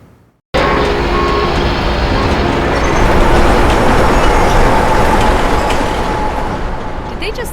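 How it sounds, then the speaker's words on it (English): An animated metro train arriving at a station, a loud sound effect that cuts in abruptly after brief quiet as a dense rumbling roar, holds steady and then eases slightly toward the end. "the next train, northbound to New Westminster, will be arriving in 2 minutes."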